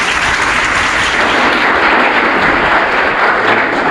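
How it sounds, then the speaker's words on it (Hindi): Loud, close applause welcoming a district official as a guest at a school gathering about topping board exams, a dense continuous roar of many hands clapping throughout without a break. "सर के लिए एक बार तालियों से स्वागत करें।"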